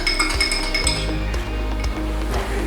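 A spoon stirring water and sugar in a glass, giving bright repeated clinks against the glass over a steady low hum, close and fairly loud with no talk.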